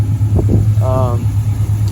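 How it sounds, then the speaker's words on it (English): A Chevrolet Monte Carlo with an oil leak runs at a steady idle, its low engine hum continuous and close throughout, with a brief voice sounding partway through. "Driving this car around the block a couple times."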